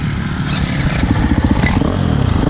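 A 2026 Ducati Desmo 450 MX motocross motorcycle engine roars loud and close on a private track, a steady rapid mechanical pulse with clattering texture throughout.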